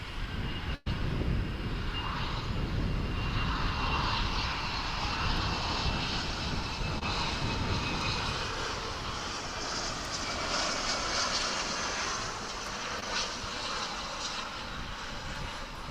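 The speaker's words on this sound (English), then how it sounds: "At runway 18 left, we have Alaska Airlines Flight 287, which is headed out to Seattle." An Alaska Airlines jet on a runway at Dallas/Fort Worth International Airport roars with a loud, sustained engine rumble and whine, steady throughout and heard from a distance outdoors, with no voices.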